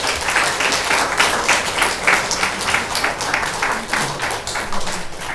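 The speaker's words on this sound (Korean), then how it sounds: "나오실 때 우리 박수로 크게 환영해 주시기 바랍니다." Sustained applause from a church congregation welcoming a new education evangelist, dense steady clapping filling the whole stretch with no voices over it.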